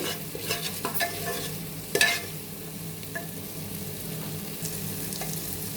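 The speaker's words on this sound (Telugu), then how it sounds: "ఆయిల్ వేగేంత వరకు కలుపుతుండాలి, లేకపోతే అడుగెట్టేస్తుంది." A spoon stirs cashew masala paste frying in oil for a mutton curry, making soft scrapes and clanks over a low, steady sizzle, with one sharper knock near the pan.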